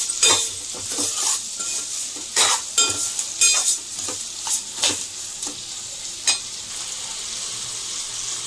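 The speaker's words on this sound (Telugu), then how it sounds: "ఇప్పుడు అందులోనే రుచికి సరిపడా ఉప్పును అయితే వేసుకుందాం. 1/2 స్పూన్ పసుపు, ఒకసారి అయితే కలిపేసుకుందాం." A spoon stirs tamarind pulp with salt and turmeric in a pan, giving a close series of scraping, sloshing strokes with a soft sizzle underneath.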